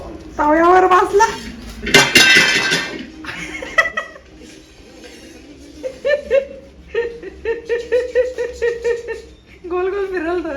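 Metal clanks and scrapes as a child sits and spins on an iron griddle, close and intermittent, mixed with laughter and chatter from adults and children.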